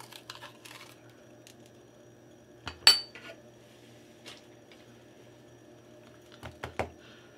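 A kitchen knife cuts the core and inside flesh out of a bell pepper being prepared for stuffing, giving a few quiet, sparse clicks and scrapes with a sharper knock near the middle and more near the end. No one speaks.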